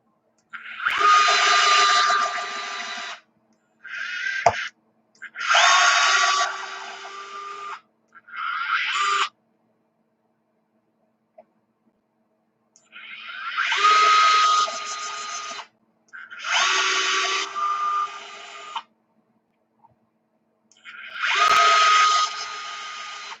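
A power drill pre-threads stainless steel screws into RC beadlock wheels in six or seven separate whirring bursts of a few seconds each, close and clear, with quiet pauses between.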